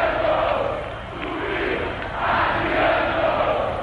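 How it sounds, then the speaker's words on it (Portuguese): A large football crowd of Internacional supporters chants a player's name in unison in Porto Alegre, a loud continuous roar that swells and dips in rhythmic waves, with no distinct talk above it. "Agora a torcida grita o nome do garoto Luiz Adriano."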